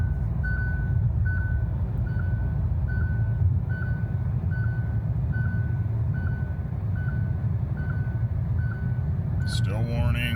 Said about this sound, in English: now it's warning me, put your hands on the wheel.